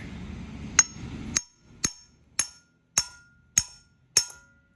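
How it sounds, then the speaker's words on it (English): Sharp metallic hammer strikes on a worn A-arm bushing from a 1999–2004 WJ Jeep Grand Cherokee, seven loud ringing blows spaced evenly about half a second apart, close by with short decays. "Let's try to smack that out."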